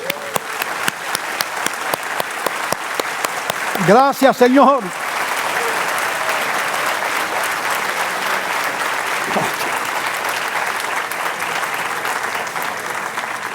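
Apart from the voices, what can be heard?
congregation applause in church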